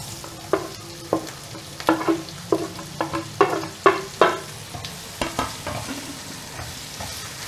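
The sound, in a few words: onions frying with spices in a pan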